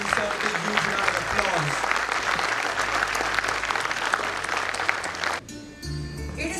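Sustained, dense audience applause at a school function where a guest is welcomed, loud and continuous for over five seconds, then breaking off abruptly as the room quiets.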